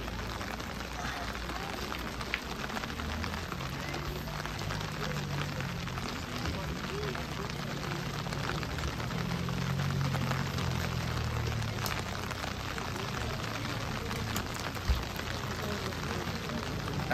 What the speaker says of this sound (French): Il pleut à grosses gouttes.